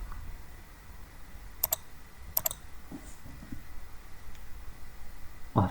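A computer keyboard or mouse gives a few sharp, isolated clicks, two close together early and one faint later, over a quiet room hum.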